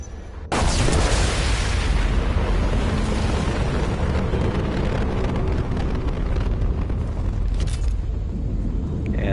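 A sudden explosion erupts in Mass Effect 2 as an enemy's head is blown up, a loud broadband blast followed by a long sustained roaring rumble that fades near the end.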